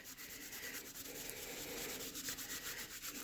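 Soft continuous rubbing as mineral oil is worked by hand into cleaned seashells, a faint close scratchy friction sound with gentle rhythmic strokes and no voices.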